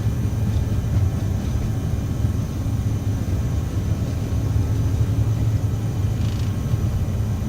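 An Aerosoft CRJ900 airliner's jet engines hold takeoff power in Microsoft Flight Simulator, a steady, loud low rumble with a constant whine layered on top, unbroken for several seconds and free of talk.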